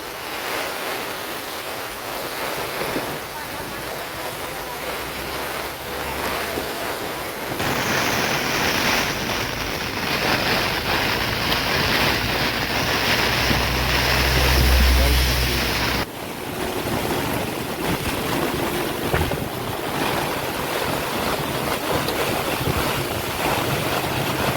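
Floodwater of the swollen Vishwamitri river in Vadodara rushes past in a strong current, a loud continuous roar with wind buffeting the microphone throughout.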